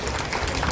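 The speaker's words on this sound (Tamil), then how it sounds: "அவங்களுக்கு ஒரு பெரிய பாராட்டும் கைத்தட்டலும் கண்டிப்பாக கொடுத்துருங்க." Audience applause at a temple cultural festival with an elephant-vehicle procession in Kanchipuram, a dense, steady wash of many hands clapping close by, filling the whole brief moment with no voice on top.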